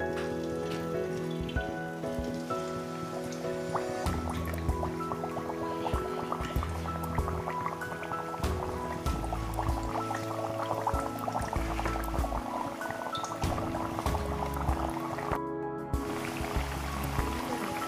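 Aloo matar puris made with rice flour fry in hot oil, giving a continuous fine bubbling sizzle with scattered drips and crackles, steady and close throughout without talk.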